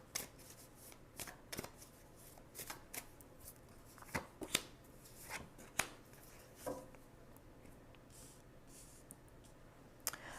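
Tarot cards are shuffled and picked nearby, making soft, irregular riffling clicks and snaps over a quiet background.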